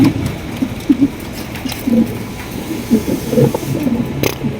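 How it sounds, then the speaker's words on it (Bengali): Mondi pigeons, including a light blue bar bird, coo repeatedly at close range in a loft, low rhythmic rolling calls overlapping through the whole stretch with no talk. "এখানে সিঙ্গেল একটা আপনার মন্ডি কবুতর আছে দেখতে পাচ্ছেন"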